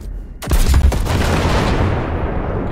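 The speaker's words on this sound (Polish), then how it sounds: "Zbiornik paliwa może eksplodować." A fuel tank blows up in the video game Cyberpunk 2077 with one sudden loud blast, followed by a long roaring rumble and crackling debris that slowly fades, with no voices over it.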